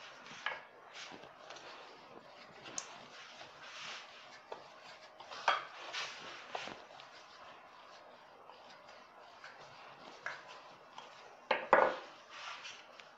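A rolling pin works croissant dough on a floured surface at home, giving soft rubbing and rolling strokes with occasional light knocks and clatters, close and fairly quiet.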